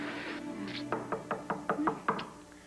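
A quick series of about seven sharp knocks on a door, crisp and fairly close, with no voices over them.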